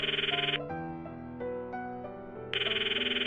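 Unanswered phone ringing in the visual novel Steins;Gate, two loud bursts of an electronic ring at the start and end with a music bed of sustained tones between them.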